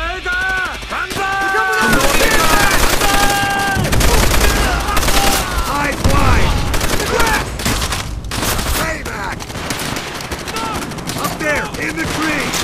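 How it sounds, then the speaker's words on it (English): Rifle and sniper gunfire in Call of Duty: World at War cracks out in loud, repeated bursts over a dense battlefield din, with shouting voices mixed in throughout. "Sniper fire!"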